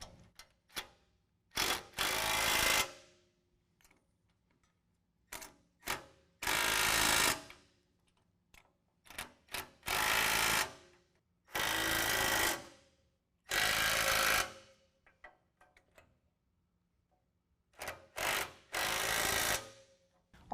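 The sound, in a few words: tightening bumper hardware with 3/4 inch tools on GMC Sierra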